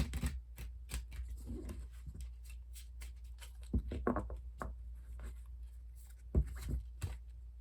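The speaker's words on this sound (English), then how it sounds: "But let's do some shuffling. I want to pull 4 tarot cards" Close-up rustling and soft slaps of tarot cards being shuffled by hand, irregular bursts with brief pauses, no talking.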